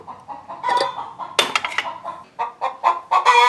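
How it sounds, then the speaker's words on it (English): Hens clucking and squawking in a barn where they have been laying eggs in hay bales, a run of close, repeated cackles with uneven bursts and no talk. "the chickens have decided that these hay bales in the barn is where they want to lay their eggs now"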